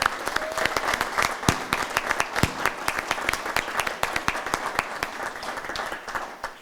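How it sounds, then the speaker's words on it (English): A crowd at a city's State of the City address claps steadily for a council member, with individual claps distinct and fairly close, and no talking over it. "Can we please show him some Lyndhurst love with a round of applause?"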